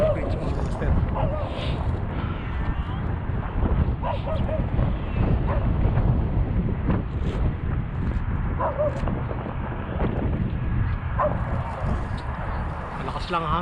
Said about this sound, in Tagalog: Malakas lang ang hangin.